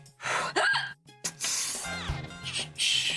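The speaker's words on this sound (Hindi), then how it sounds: "क्या हुआ, तुम्हें हिचकी क्यों आ रही है?" A character in a Hindi TV drama scene hiccups, giving several sharp, breathy gasping catches spread irregularly over a few seconds with faint background sound between them.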